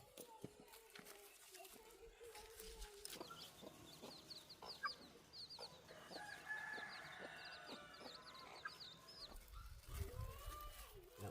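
Chickens on a rural farm cluck steadily while a rooster crows several times in the background, the calls moderately distant, with a person talking intermittently over the farmyard sounds.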